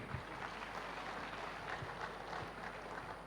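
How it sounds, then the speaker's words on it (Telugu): Audience applause in a large gathering, a steady faint wash of clapping that carries on throughout without a break. "గట్టిగా చప్పట్లు కొడదామండి"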